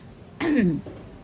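A single short throat-clearing cough, close and fairly loud, with a faint follow-up rasp afterward against quiet room noise.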